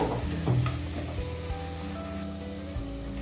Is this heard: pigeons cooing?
no